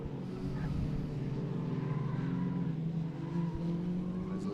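Rallycross cars lapping at Mondello Park during the British Rallycross Championship, a dense steady engine roar with overlapping revving tones and a brief skid-like rasp, constant loudness from mid-distance, with no talking.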